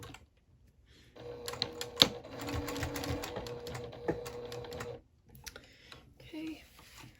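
A sewing machine runs a short burst of stitches on a lanyard keychain, a rapid mechanical whir lasting about four seconds, close and fairly quiet, followed by softer handling sounds.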